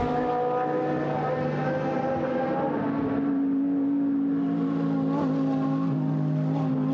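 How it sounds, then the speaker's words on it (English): GT3 race cars, including a Mercedes SLS AMG GT3, cross the timing line at Paul Ricard in a 2017 Blancpain GT Sports Club race, producing a loud, continuous engine roar that shifts in pitch as they pass, with no talk. "Over the timing line they come."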